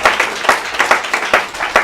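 A church congregation clapping together during a sermon, a dense rhythmic applause with regular accented beats, loud and close, running steadily without pause.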